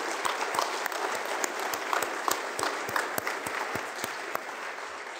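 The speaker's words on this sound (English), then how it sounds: "Maybe we can give a quick round of applause" Convention audience applauding volunteers, steady rapid clapping from a moderately sized crowd, heard at some distance and fairly faint, continuing evenly for about five seconds.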